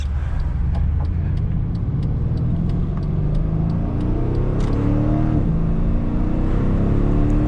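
A 2016 Mercedes-Benz E63s AMG engine accelerates continuously, its rising roar climbing in pitch as it gains speed, loud and close, with no talking.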